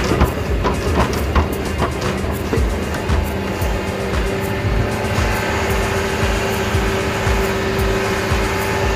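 A loader's diesel engine runs loud and close with a continuous rumbling drone and clanking of the machine, holding steady throughout with no voices.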